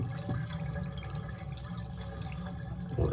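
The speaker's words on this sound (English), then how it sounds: "We gotta drain it anyway. You can see there's quite a bit of water." Meltwater drains out of a YETI Tundra 35 cooler, a steady close trickle and splatter of running water that continues throughout, with no talk.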